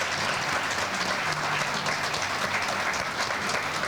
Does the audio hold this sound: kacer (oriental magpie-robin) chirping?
no